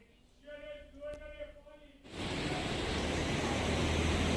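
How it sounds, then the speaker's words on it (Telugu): A voice speaks briefly before the Penna river in flood takes over as a loud, continuous broadband roar of rapidly rushing water that holds steady to the end. "దృశ్యాలు నీళ్ళైతే ఉధృతంగా ప్రవహిస్తున్నాయి"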